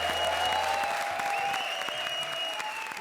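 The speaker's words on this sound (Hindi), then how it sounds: "तालियां।" Steady applause from a comedy show audience sounds throughout, with a sustained musical tone and effects layered over the clapping.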